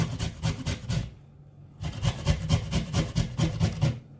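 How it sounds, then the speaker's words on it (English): Fresh ingredient, peeled, being rubbed against a hand grater at close range in quick repeated rasping strokes, with a short pause in the middle before the steady scraping resumes. "you just grate it like this. Grate it like this, like the way I'm doing."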